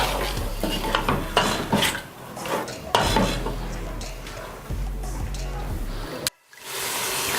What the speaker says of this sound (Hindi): और मटन। इसको हम 2 से 3 मिनट तक फ्राई करेंगे।